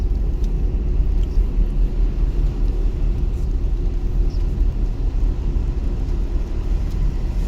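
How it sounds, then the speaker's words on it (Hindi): A car coasting downhill on a road during a driving lesson, its low steady rolling rumble and road noise continuous and fairly loud throughout, with no voices. "अब जाने दो, डाउन है ना, खुद ही जा रही ना गाड़ी।"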